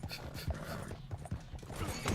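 Horse hooves clop in an uneven, trotting rhythm in the Red Dead Redemption 2 video game, moderately close, mixed with faint creaks and game ambience.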